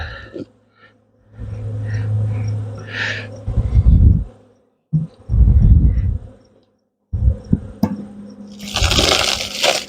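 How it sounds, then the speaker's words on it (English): Honey bees buzz inside a full hive whose comb is built right up to the lid, a dense, loud hum in bursts broken by short silences, ending in a hissy rush. "They're full of syrup, they're full of bees."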